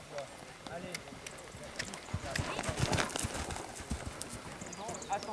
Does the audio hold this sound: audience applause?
no